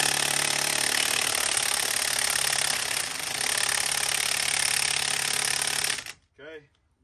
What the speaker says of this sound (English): So let's use this Milwaukee. You can see it's in reverse. Okay, and let's see if we can unloosen these nuts.